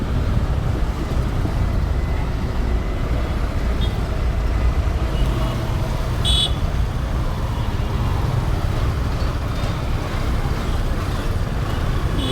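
Heavy road traffic in Mydukur town, a steady dense roar of passing cars, buses and trucks close by, continuous and loud throughout with a brief higher-pitched horn or squeal partway through.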